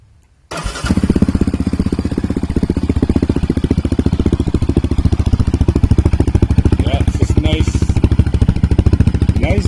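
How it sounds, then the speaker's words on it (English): A Yamaha Raptor 700R ATV, sitting in neutral, cranks briefly and fires up, then settles into a loud, steady, bassy idle with a rapid thumping exhaust pulse, recorded close up. "Let's give her a little start up real quick. Let you hear that exhaust though."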